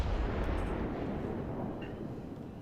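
A Yamato battleship's main guns fire in World of Warships, a heavy low boom rolling out and decaying over a couple of seconds, loud and alone.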